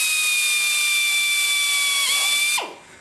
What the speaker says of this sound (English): Take our drill with our number 21 bit in it. And we are going to drill this hole.